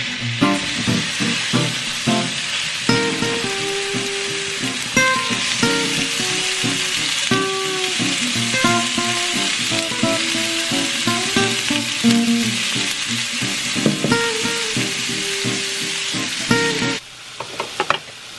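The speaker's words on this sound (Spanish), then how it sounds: "Vamos a colocar aquí la carne y pues ahora se llegó la hora de cocinar." Beef steak sizzles and fries steadily on a hot comal griddle, a loud, continuous crackle with occasional stirring scrapes and no talk.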